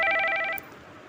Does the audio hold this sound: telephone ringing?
yes